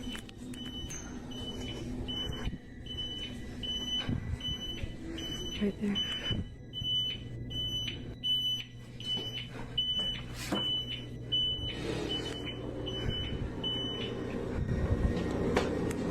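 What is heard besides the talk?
hospital nurse call alarm going off in a nursing home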